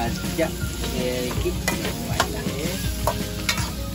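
Food frying and being stirred in a pan while making curry in a Malaysian home kitchen, with steady sizzling throughout and repeated scraping strokes of the utensil; a voice speaks briefly and quietly.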